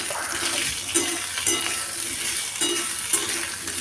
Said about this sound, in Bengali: আলুগুলো খুব ভালো করে আমি এখানে ভেজে নিচ্ছি